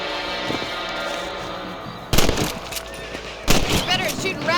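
Two rifle shots at rabbits in the Red Dead Redemption video game, sharp close cracks about a second and a half apart, each with a short ringing tail, over quiet background sound and faint talk.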